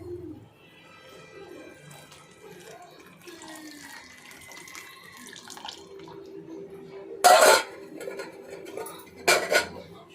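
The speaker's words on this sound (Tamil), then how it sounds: "எடுத்து வச்சுருக்க புளி தண்ணியை இதில் சேர்த்துக்கலாம்." Tamarind water poured into a pot of dried-fish curry with field beans, heard as two short bright splashy bursts late on, over a quiet kitchen background with faint clinks.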